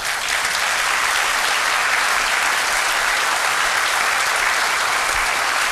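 A church congregation applauds in a dense, steady wash of clapping that stays loud and even from start to finish, with no voices standing out.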